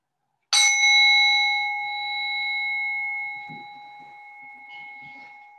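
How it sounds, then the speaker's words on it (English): A single bell rings to close a restorative yoga session. It is struck once, bright and clear, then its pure ringing tone fades slowly over several seconds in a quiet room. "In a moment, you'll hear the sound of the bell."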